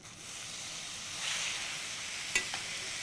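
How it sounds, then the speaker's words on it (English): Spaghetti being stirred in a hot carbonara pan, a steady close sizzling hiss with a slight swell midway and a couple of short scraping clicks near the end, no voices. "I just have all the spaghetti inside. I keep stirring it."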